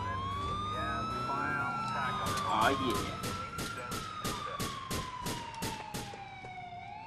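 A police car siren wails in GTA 4 multiplayer, a loud rising and falling tone with rapid yelping bursts in the middle. Players talk over it.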